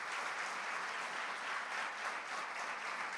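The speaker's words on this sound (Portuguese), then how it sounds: "Eu gostaria que a igreja desse um aplauso forte a Jesus." Sustained crowd applause, steady dense clapping from many hands at a moderate distance, without any talk over it.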